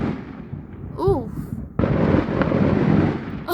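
Fireworks boom and crackle close by in a dense, loud burst that rises abruptly partway through after a quieter stretch. People exclaim and a short whistle-like voice or bird sound rises before it.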